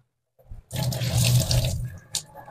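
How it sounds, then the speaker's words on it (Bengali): Water gushes from a timed household tap into a container, a steady splashing flow starting abruptly after a brief trickle and cutting off with a few final splashes. "জল চলে যাচ্ছে।"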